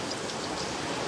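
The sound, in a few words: heavy rain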